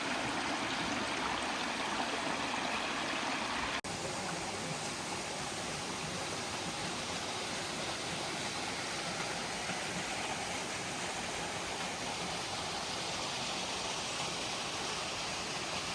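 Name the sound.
babbling stream of water in the Austrian Alps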